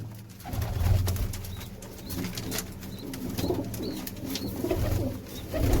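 Pigeons coo in low, repeated rolling phrases over a steady outdoor hum, several birds overlapping at moderate loudness.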